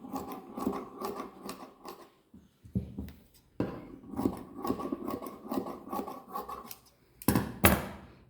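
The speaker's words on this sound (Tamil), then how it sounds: "இங்கே வெட்டி இங்கே வெட்டி சதுரமாக அதை முதல்ல வெட்டி எடுத்துக்கலாம்" Scissors cutting net cloth, close rhythmic snipping in quick runs broken by brief pauses, with a final louder burst of cuts near the end.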